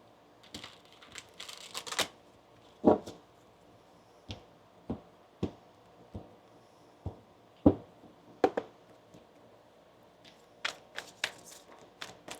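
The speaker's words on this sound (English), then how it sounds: "We'll get one more shuffle here for you" Tarot cards shuffled and tapped, giving scattered sharp slaps and riffling clicks at uneven intervals, fairly close and otherwise quiet with no talking.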